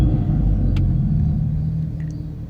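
A Dodge Charger engine runs at a close, steady low rumble that eases slightly toward the end, with a faint click or two over the idle.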